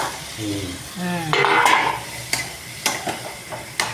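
Chicken added to a pan of fried masala for a yogurt chicken curry, a burst of sizzling followed by sharp utensil scrapes and clinks against the pan, with a voice speaking briefly at the start.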